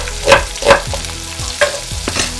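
Chopped onions frying in hot cooking oil for a pork blood stew, a loud close sizzle broken by several sharp stirring scrapes and clatters of the utensil, no talking.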